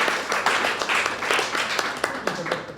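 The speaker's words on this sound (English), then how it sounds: "can you just clap your hands" An audience claps hands in a steady scattered patter throughout, close and fairly loud, with some voices mixed in underneath.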